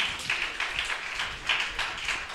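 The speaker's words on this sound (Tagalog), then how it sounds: "malakas na palakpak para sa Diyos" A church congregation claps loudly in praise to God, a dense, steady patter of many hands with small swells and no voices over it.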